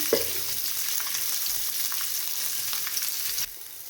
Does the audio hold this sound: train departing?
no